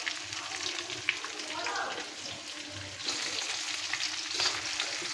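Chicken pieces fry in a small amount of oil for a spicy green chili chicken curry, giving a close, continuous sizzle broken by scraping stirring sounds.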